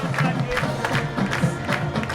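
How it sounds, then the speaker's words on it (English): Football crowd at a Sallisaw Black Diamonds vs. Poteau Pirates high school game cheering a touchdown, a steady roar of many voices with scattered shouts and claps, held at a constant level throughout. "and they're up standing cheering on that touchdown."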